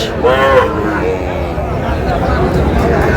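A Sahiwal bull calf lets out a short, close moo at a busy cattle market, followed by murmuring crowd noise and voices.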